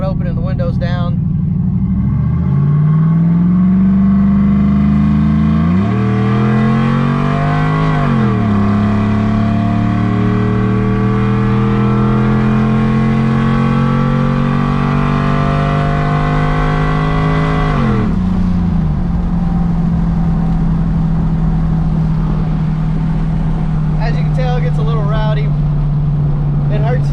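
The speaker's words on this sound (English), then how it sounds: "It is a little louder in the cab, you know, without, I mean, with the cutout open and the windows down." A cammed Chevrolet Silverado truck with its exhaust cutout open accelerates hard with the windows down, the loud lumpy engine note climbing through several gear changes before settling into a steady cruise, heard from inside the cab.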